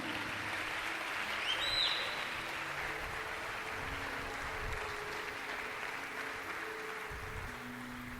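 Steady church congregation applause fills the whole stretch, a dense wash of clapping at moderate volume with a faint whistle-like tone early on.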